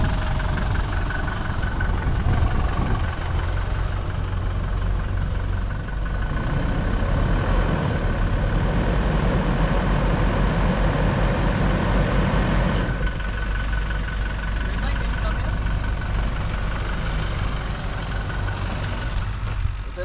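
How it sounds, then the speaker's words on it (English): A Toyota Hilux engine runs at a steady, loud drone off-road while its left rear tire spins without traction, producing a constant rumbling roar that shifts slightly in tone partway through. "The left rear tire is spinning because it has no traction whatsoever."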